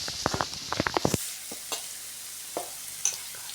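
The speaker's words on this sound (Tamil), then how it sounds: "பச்சை மிளகாய் எடுத்து வச்சுருந்தாலே அதையும் போட்டுட்டு நல்லா வதக்கிக்கலாம்" Green chillies sautéing in a pan for rava kichadi, a quick burst of spatula taps and scrapes followed by a few sparse stirring knocks over a soft sizzle.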